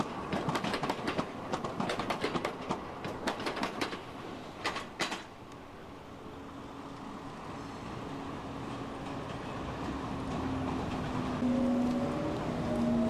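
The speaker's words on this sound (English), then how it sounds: "uneven track, which is going to cause a little bit of jiggling and shaking and noise making of the tram vehicles" A tram in Dnipropetrovsk clatters and rattles over uneven track, with a burst of sharp metallic clanks early on, then a steady rumbling roll and a faint rising whine.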